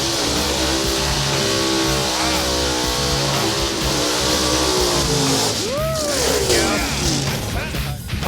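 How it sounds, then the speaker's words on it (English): A drag racing car performs a tire burnout at Area 51 Dragway, with a loud, sustained engine roar and a rising whine that stays close and constant for the whole stretch. "All right, let's watch this burnout."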